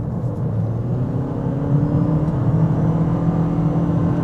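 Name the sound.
Toyota Corolla 2.0 Hybrid accelerating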